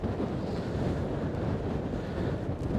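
Strong wind roars steadily across the microphone on the South Shore of Staten Island, New York City, a dense continuous rumble with no pauses, loud and close.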